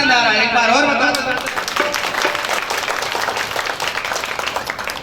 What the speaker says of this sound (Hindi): ताली बजा के बताओ